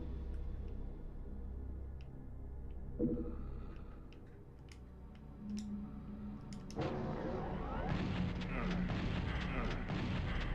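Rapid automatic gunfire from an early chain gun in the video game 1989 After The War, a dense rattling burst that swells loudly in the second half over a game soundtrack, with someone talking over it.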